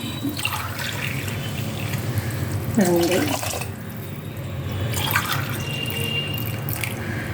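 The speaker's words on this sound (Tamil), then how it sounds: "இப்போ இதுக்குரிய தண்ணி ஊற்றுறேன்." Water is poured into a pan of sautéed tomatoes while making upma, a splashing, trickling flow with a brief burst of bubbling partway through; a voice can be heard faintly.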